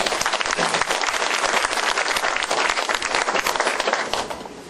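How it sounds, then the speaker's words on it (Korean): An audience at a women's volunteer fire brigade chief's inauguration ceremony claps loudly and steadily for several seconds, a full, close round of applause that fades slightly at the end, with no talking. "앞으로 열심히 해달라고 힘찬 박수 한번 보십시오"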